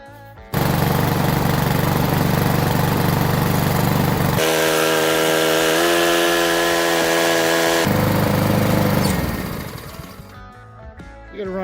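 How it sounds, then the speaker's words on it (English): A walk-behind lawn mower engine catches and runs loud and steady close by for about ten seconds, its tone shifting partway through. It then winds down toward idle. "Then you're going to start your mower up."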